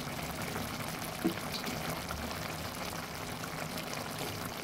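Mustard oil trickling into a simmering pan of tengra fish curry, a soft continuous pouring and bubbling wash, faint and close with no talk.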